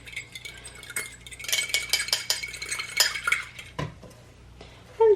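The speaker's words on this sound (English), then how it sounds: "And just mix this up so that our yeast is completely mixed in." A fork clinks and scrapes against a small bowl, stirring yeast and sugar in quick, close taps and swirls with no talking.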